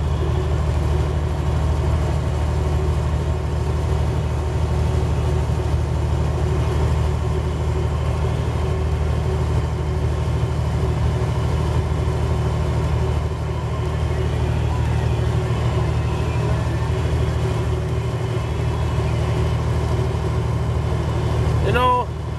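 Car driving on a snowy highway near Kansas City, a steady loud low engine and road rumble that stays constant throughout from inside the cabin.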